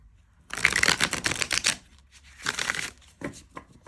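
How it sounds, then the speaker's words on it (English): A tarot deck of 78 cards being shuffled by hand, two brisk riffling bursts of crisp card flutter separated by a short pause, close and fairly quiet. "let's have a look and see how the deck shuffles"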